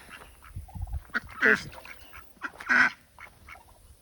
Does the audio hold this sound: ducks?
yes